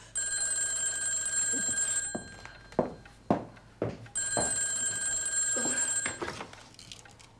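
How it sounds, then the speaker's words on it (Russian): An old-style telephone bell rings in two long bursts, loud and close, with soft thuds and movement in the gap between rings. "Может, возьмешь трубку?"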